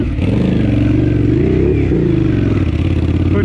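Honda CX500 motorcycle engine running rough and rich off-road on a harescramble course: a loud, steady, close-up rumble with uneven throb and clatter, no voices.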